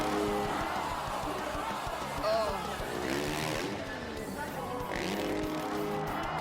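A freestyle motocross bike engine revs up and down in rising and falling sweeps during a trick, heard at a distance with crowd noise and voices talking over it.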